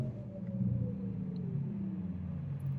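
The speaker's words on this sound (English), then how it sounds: "It's a synthesis of a turbo sort of engine noise, along with a little bit of electronic keyboard." Synthesized drive sound of a Porsche Taycan electric car, blending a turbo-style engine tone with electronic keyboard notes, heard as a steady low droning hum with slowly gliding pitch, continuous and moderately loud throughout.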